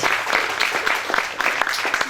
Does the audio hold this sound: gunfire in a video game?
no